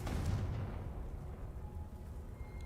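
A Confringo blasting spell goes off in the Hogwarts Legacy video game, a loud, low rumbling burst at the start that settles into a steady, dull roar lasting a couple of seconds, with no voices.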